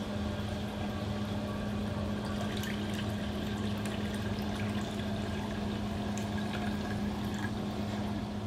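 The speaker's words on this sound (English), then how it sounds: "Put some more water in here." Water is poured steadily into a hermit crab tank, giving an unbroken, even rush of trickling and splashing that carries on throughout with no voices.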